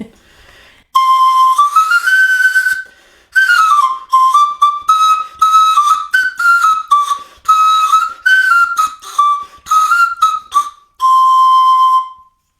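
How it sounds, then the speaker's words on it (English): A replica Viking panpipe plays a bright, breathy run of short notes and held tones, some gliding in pitch, with brief gaps between phrases, close and loud with no talking. "you would hear the sound of the panpipe and know that it was time to get your knives out and get them sharpened"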